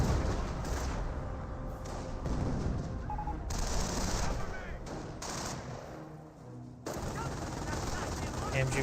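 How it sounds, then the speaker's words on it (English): An MG42 machine gun in the Company of Heroes video game fires in rapid bursts amid battle noise, with thuds and explosions, the shooting sounding somewhat distant and broken by short pauses. "MG42 far away, trying to press down these riflemen"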